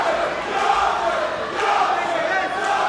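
The travelling Hemsworth crowd at a boxing fight chants Yorkshire, a sustained massed roar of voices at a distance, loud and steady with slight swells across the moment.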